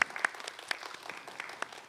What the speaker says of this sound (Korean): 우리 서로를 바라보면서 격려와 환영의 박수 한번 할까요?